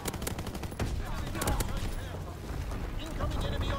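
A GPMG light machine gun in the video game Call of Duty: WWII fires in rapid, dense bursts mixed with other battlefield shots and blasts, loud and continuous throughout.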